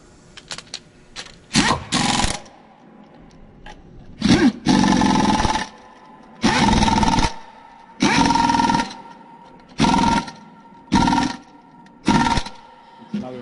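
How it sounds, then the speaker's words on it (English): An impact gun drives a fastener on a Cummins ISL engine. It fires in about eight loud, separate bursts of roughly a second each, with quieter shop noise between them. "Another place where you need to know your impact gun."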